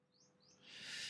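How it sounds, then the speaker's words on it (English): Local bird sings two faint rising whistled notes in the background outdoors, followed by a soft hiss of wind or ambient noise; no talking. "outdone by a bird, a local bird"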